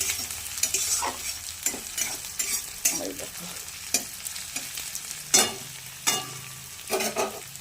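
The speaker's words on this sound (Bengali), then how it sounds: "ভালো করে লাল করে ভেজে নেব পেঁয়াজটা" Onions fry until reddish in a pan for a thin chicken and papaya curry, a steady sizzle punctuated by repeated scraping clacks of a spatula stirring, close and fairly loud, with no voices.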